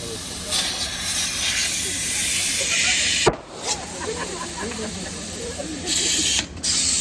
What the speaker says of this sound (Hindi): सीटी बजते कुकर को हम पहली बार छू के देख रहे हैं